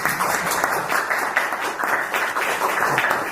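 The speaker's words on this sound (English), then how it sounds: "round of applause again" Audience applause at a seminar talk, a short burst of steady, moderately loud clapping from a seated crowd lasting a few seconds.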